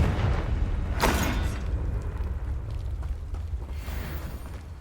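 A Confringo spell in Hogwarts Legacy bursts with a sharp, loud blast, then trails off into a rumbling, crackling decay beneath the game's ambient noise.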